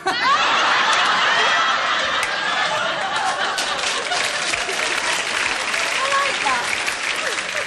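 A studio audience at a 1981 television game show applauds loudly and continuously, with scattered laughter and chuckles mixed into the clapping and voices talking underneath.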